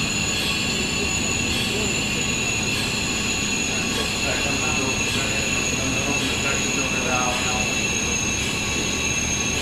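Liquid nitrogen flows through the hose of an Accu Freeze LN2 pipe freeze system as a continuous loud hiss and rush with a faint whine, steady throughout and heard close.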